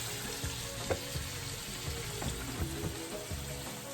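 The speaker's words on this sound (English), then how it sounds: "It's a nice sizzling now." Chicken breast sizzles and spits steadily in a hot pan, a constant crackling hiss with small pops, heard up close.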